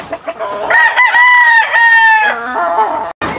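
Hens cluck busily while a rooster lets out a long, loud crow close by at feeding time on a poultry farm, with the calls overlapping almost without pause.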